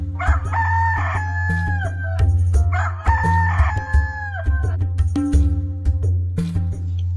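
Two loud, close rooster crows ring out one after another, each a long rising and falling call, with clucking and farmyard noises between them.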